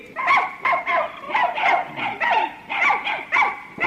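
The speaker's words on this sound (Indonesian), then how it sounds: "Wah, masa si Eti menggonggong begitu" A dog barks rapidly and steadily from a small kennel shed, a run of roughly a dozen sharp, evenly spaced barks, loud and close, with no talk over them.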